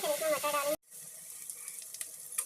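Paneer sizzles and fries in a pan while being roasted before peas are added, a steady soft hiss with occasional stirring clinks after a louder burst of frying at the start.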